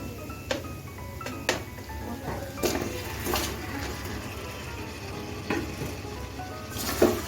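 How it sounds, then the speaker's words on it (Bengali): Chicken pieces going into a pan of sizzling masala on medium gas, a low steady sizzle with a few sharp clinks and scrapes of utensils against the pan, fairly close and moderately quiet, no talking. "এখন আমি চিকেন দিয়ে দিচ্ছি"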